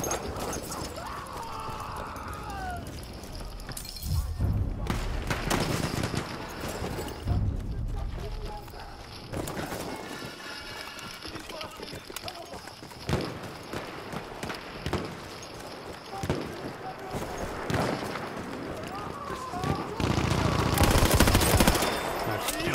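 Burton LMR rifle shots in a World War One video game at Achi Baba, loud repeated cracks amid surrounding battlefield gunfire and horse sounds, with a player talking over the action.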